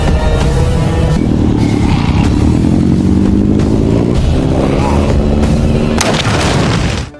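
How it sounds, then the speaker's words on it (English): A motorcycle rumbles along in a dramatic zombie-apocalypse TV battle scene, its engine tone rising steadily under booming, percussive sound effects and music before fading out. "Daryl rode his motorcycle, leading the zombies towards the Savior's compound"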